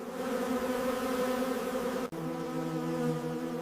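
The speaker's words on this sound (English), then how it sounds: "millions of bees work together around their queen" A dense, steady drone of honey bees swarming around a busy hive, a thick layered buzz holding constant and close, briefly cutting out for an instant before resuming at full strength.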